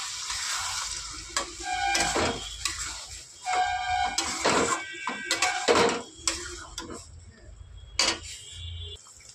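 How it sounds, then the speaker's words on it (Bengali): A ground paste of tomato, onion, green chili, ginger and garlic fries in a pan, giving a crackling sizzle with repeated sharp clatters of a spoon against the pot, close and fairly loud, and no speech. "এবার এর মধ্যে দিয়ে দেবো বেটে রাখা মশলাটা। এর মধ্যে আছে টমেটো, পেঁয়াজ, কাঁচা লঙ্কা, আদা, রসুন সব পেস্ট একবারে করে নিয়েছি।"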